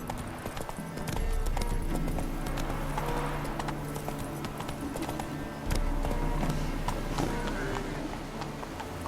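Roach the horse gallops in The Witcher 3, a steady, loud clip-clop of hooves running close by, with a rider's voice heard briefly over the hoofbeats and game ambience.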